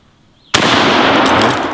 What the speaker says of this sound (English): close her up, shoot again